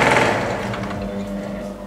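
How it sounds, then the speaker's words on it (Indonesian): A jigsaw blade cutting MDF winds down after the cut, a rapid buzzing chatter that fades and slows over about two seconds. "turunkan kecepatan bilah gergaji dengan mengatur speed adjustment"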